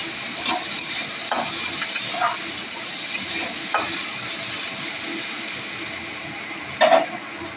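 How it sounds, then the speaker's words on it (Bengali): Chopped potatoes fry in hot oil with salt and turmeric, giving a steady close sizzle broken by several soft scraping stirs and one louder stir near the end. "আলু ভাজার সময় সামান্য নুন আর হলুদ দিয়ে আলুটা ভালো করে ভেজে নেব।"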